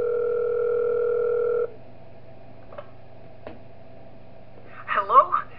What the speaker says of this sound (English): Okay, we're getting a phone call.